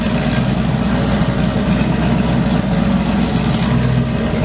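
Turbocharged 5.3 LS V8 in a Mustang running on a dyno, a loud steady low-pitched rumble at constant revs with a faint whine over it, close and continuous with no talk.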